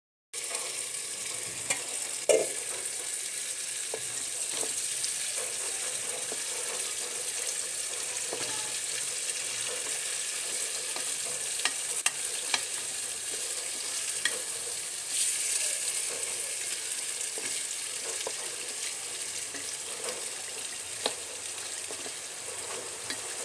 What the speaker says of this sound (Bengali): আমি মুরগির মাংস রান্না করার জন্য সব মশলা কষিয়ে নিচ্ছি।